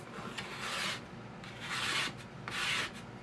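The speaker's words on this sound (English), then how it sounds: "So I can go in here and just scrape all that off." A hand scraper dragged across a wooden board to strip off old finish, producing three long, rasping scrapes in a slow even rhythm, close and fairly quiet.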